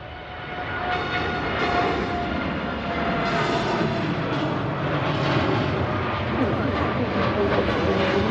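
A jet aircraft on a repositioning flight at Manchester Airport, a loud sustained engine roar rising and holding steady as it passes, with a voice briefly audible underneath.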